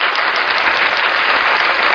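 Loud, dense applause from a crowd at a religious teaching gathering, a continuous close wash of many hands clapping with no pauses and no speech.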